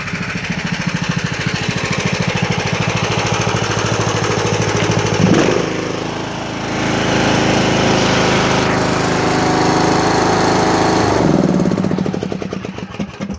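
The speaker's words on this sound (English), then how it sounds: "engines have a clunky running sound to them" A Craftsman T1700 lawn tractor engine runs steadily up close with a rough, clattering idle, briefly dipping and surging about midway before settling back.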